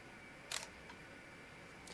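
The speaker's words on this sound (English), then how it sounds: "the mechanical shutter is actually not very quiet" Mechanical shutter of a Leica CL compact camera fires once in a quiet room with a sharp, close click burst, followed by a faint second click near the end.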